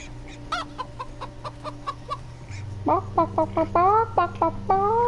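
A chicken in the video game Minecraft Story Mode clucks in a rapid series of sharp, bright calls, sparse at first and then a louder, denser run of squawks, with no talking.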